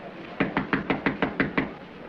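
Knuckles rap on a door in a sequence of eight evenly spaced, firm knocks, close and distinct with no talk over them.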